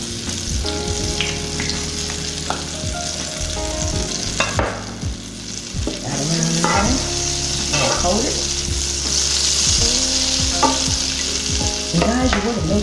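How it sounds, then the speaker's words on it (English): A pat of butter with a drop of olive oil melting and sizzling in a skillet before scrambled eggs, a steady close frying hiss with occasional clinks and scrapes and a faint hum underneath. "we are going to put just a pat of butter in our skillet. Let that melt up."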